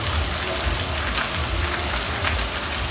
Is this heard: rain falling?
yes